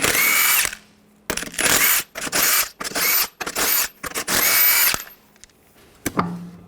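A power tool with a 22mm socket spins lug nuts off a Cadillac Escalade wheel, several loud close bursts of whirring stopping and starting in quick succession, with a clink of a nut at the end.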